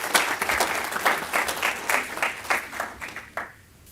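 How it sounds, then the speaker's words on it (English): A crowd at a city recognition ceremony gives a round of applause, clear individual claps blending into a steady patter that thins and fades out near the end. "Please give him another round of applause."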